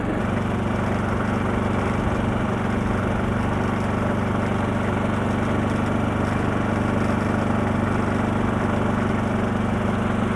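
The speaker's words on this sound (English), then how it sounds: "To get a baseline, we're standing right next to the generator at idle." A portable generator idles close by, its engine giving a loud, steady drone with a constant low hum and no change in speed over the whole stretch.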